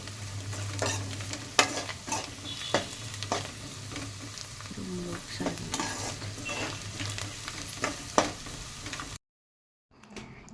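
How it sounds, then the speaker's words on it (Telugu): Chopped curry leaves and coriander fry in oil in a pan for ponganalu, a steady close sizzle broken by repeated sharp spatula clicks, then a short drop to silence before the sound returns. "కట్ చేసుకున్న కరివేపాకు అండ్ కొత్తిమీర ఈ రెండు యాడ్ చేసుకొని బాగా వేగనివ్వాలి"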